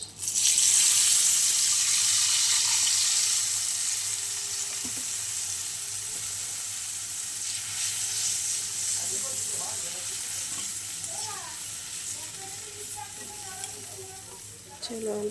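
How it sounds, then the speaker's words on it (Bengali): A splash of water hits a pan of frying rohu fish and eggplant, bursting into a loud sizzle that slowly settles into a steady hiss, with scattered scraping and clinking of a spoon later on. "এবার আমি অল্প জল দেব।"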